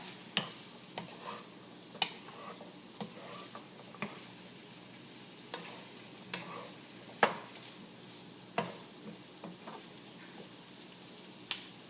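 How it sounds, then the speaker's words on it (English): Tofu with carrots, beans and potato being stirred in a pan over raised heat, a faint low sizzle with sharp irregular spoon clicks and scrapes against the pan, close and fairly quiet. "I'm gonna go ahead and mix my tofu with the carrots and the beans and the potato"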